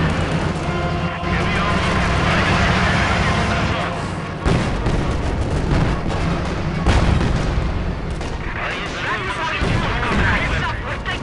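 Gunfire and artillery from Company of Heroes, with booming shell impacts and scattered shots in a dense, continuous battle mix, heard under game voices calling out orders.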